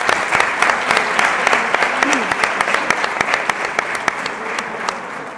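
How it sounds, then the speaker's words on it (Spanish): A crowd bursts into steady, sustained applause, dense clapping filling the room throughout without pause. "A todos un aplauso."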